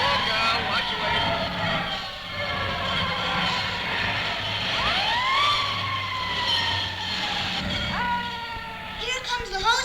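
Fire engine ladder truck passing on a 1959 children's record, with rumbling engine, repeated siren whoops and clanging, loud and close under excited voices calling out.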